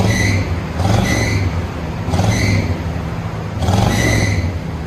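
A 1984 Chevy Caprice Classic's 5.0L V8 with dual Flowmaster Flow FX exhaust revving repeatedly, a loud, close, throaty rumble rising in three evenly spaced throttle blips over a steady idle.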